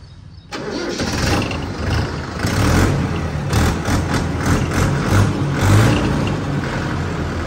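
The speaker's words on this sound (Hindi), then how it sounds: "एक बार मैं आपको ट्रैक्टर का जो साउंड है वो सुना देता हूँ" A Mahindra Yuvo Tech Plus 585 DI 4WD tractor's diesel engine starts after a brief silence, then runs steadily at a loud, close idle with a low rumbling throb that holds for several seconds, with no talking over it.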